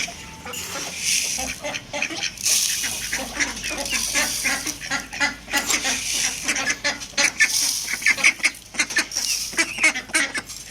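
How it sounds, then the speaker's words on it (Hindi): Ducks and other domestic fowl such as geese and chickens honk and quack in a busy, overlapping flock chorus close by while grain is scattered for them, with no one talking. "बतखों को भी दाना डाल देते हैं।"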